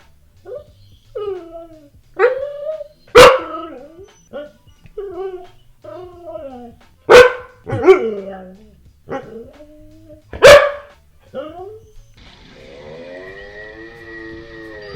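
A dog howls and yowls in a series of drawn-out, wavering cries, mixed with a few sharp barks and short yelps, ending with a long sustained siren-like howl; the sounds come close and loud.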